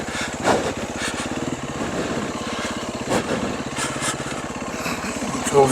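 Off-road motorcycle engine buzzing steadily while being ridden, a rapid pulsing putter close by with a few brief revving surges along the way.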